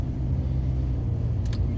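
VW Amarok with a newly fitted driveshaft after vibration trouble, heard from inside as it drives down the road: a steady, close, low engine and road rumble.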